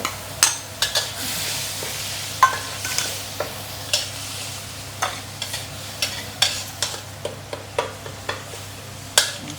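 Garlic stir-fried in a pan over low heat, with a steady sizzle broken by repeated scraping strokes of a utensil against the pan at a loose, irregular rhythm, close and clear with no talking.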